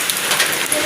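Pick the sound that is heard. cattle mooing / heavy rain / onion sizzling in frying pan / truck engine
heavy rain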